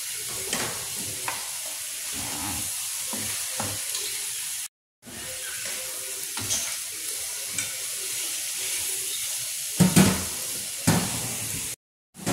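Chicken sizzles and fries in a pan for angel hair pasta, a steady crackling hiss with intermittent stirring scrapes, broken by two brief moments of silence.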